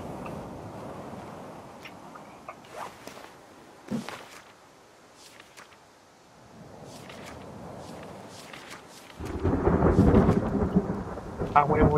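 Thunder and approaching rain in the game The Forest: faint low rumbles and scattered rustles, then a louder wash of rain surging in near the end.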